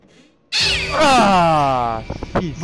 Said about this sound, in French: Ouais, c'était une saleté de chat.